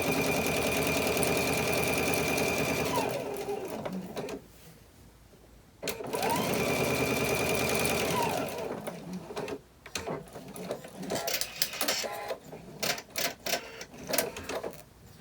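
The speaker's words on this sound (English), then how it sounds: "Now I have both of these sewn together" Sewing machine stitching main fabric together with soft foam stabilizer for an elastic closure bag, two long steady whirring runs near and loud with a pause between, then short stop-start stitching bursts.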